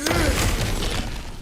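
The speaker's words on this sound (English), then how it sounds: "Ah, back to smashing through things for fun and profit." Wooden boxes smashed in the video game God of War Ragnarok, with a loud crunching break at the start and scattered debris clatter continuing under game music and ambience.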